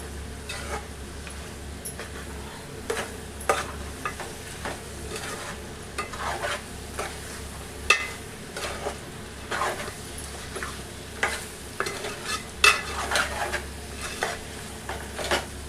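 A spoon stirs mutton curry with coriander in a pan, soft scraping strokes and occasional metallic clinks repeating over a quiet steady sizzle, heard close with no talk.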